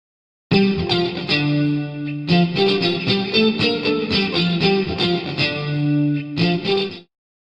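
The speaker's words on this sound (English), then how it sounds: "In this video we're going to process a mono guitar sound so it has a kind of 80s feel" Mono electric guitar loop given a big, wide 1980s pop treatment with chorus, distortion and reverb, strumming bright chords in a steady rhythm with short pauses, loud and close with no voices.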